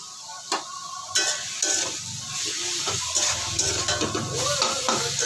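Grated ginger, salt and turmeric sautéing in a pan, a bright sizzle and frying crackle broken by repeated scraping stirs and light clinks of the spoon against the pan.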